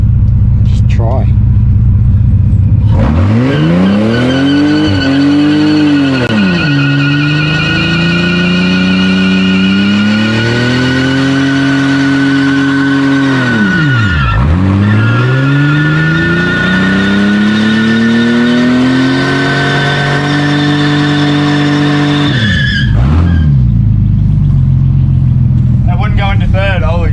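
A Ford Territory does a burnout with the engine held at high revs, its pitch sweeping up and down for about twenty seconds. Loud, continuous tyre squeal rides over a heavy engine rumble, with a brief dip and recovery midway.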